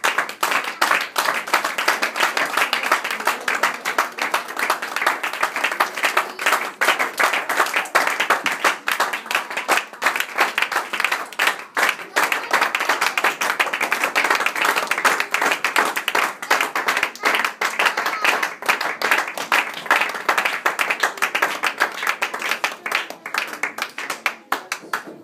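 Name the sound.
church congregation applauding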